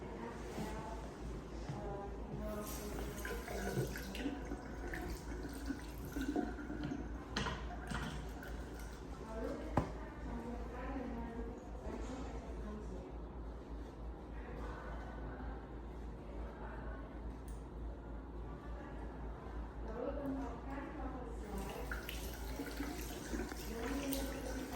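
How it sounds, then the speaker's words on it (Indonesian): Hands washed with alcohol soap at a sink before a helminth lab examination, water running steadily and softly for about twenty seconds with faint voices in the background. "alangkah baiknya mencuci tangan dulu menggunakan sabun alkohol"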